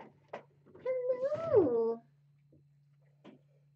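A single drawn-out meow, wavering and rising then falling, with faint rustles and a low steady hum around it.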